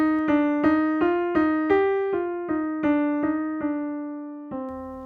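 A descending run of the lower half of an Aeolian minor scale, about a dozen clear sustained tones played one after another at a slow, even pace, each ringing into the next, with no voices.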